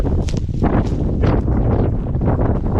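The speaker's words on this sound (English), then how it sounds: "I don't know how loud the wind's going to be, so I'm going to talk over it" Strong outdoor wind buffeting the microphone beside an old car being inspected as a parts donor, a loud continuous low roar with gusty surges throughout.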